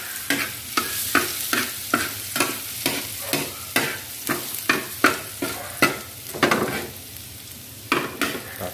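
Garlic frying in a pan for spaghetti sauce, stirred briskly: a steady sizzle under a regular series of sharp utensil scrapes and taps against the pan, close and fairly loud, no voices.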